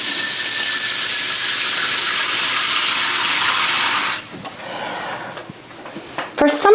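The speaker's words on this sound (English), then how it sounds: "Putting my dish in the sink here real quick." Tap water runs steadily and loudly into a kitchen sink, then cuts off, followed by a few clunks and rattles as a dish is set down in the sink, heard up close.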